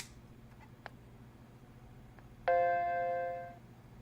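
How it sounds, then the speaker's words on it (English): A Macintosh LC sounds its startup chime, a single bright, sustained bell-like chord picked up at moderate distance, ringing out and slowly fading after a couple of faint clicks and a quiet electrical hum. "if it chimes, we'll hear it over the microphone"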